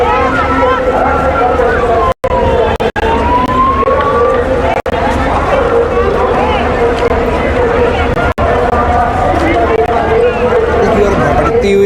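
A large, dense crowd gathers at a Shiv Mahapuran katha in Gharaunda, Karnal, a continuous loud murmur of many voices with passing vehicle noise and a faint siren-like tone, never letting up.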